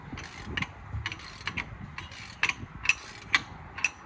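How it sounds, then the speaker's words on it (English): A breaker bar on an extension turns the front brake bolts on a Ford Focus MK2, giving a series of metallic ratcheting clicks and clanks in irregular bursts, close by with no speech. "I'm gonna use an extension, the breaker jack handle. To break them loose."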